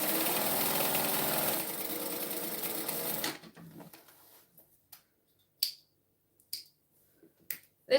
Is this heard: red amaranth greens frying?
no